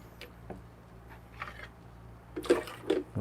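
Hot water drains and splashes out of a Flair espresso maker, with faint handling knocks first and then a couple of short, close liquid gushes.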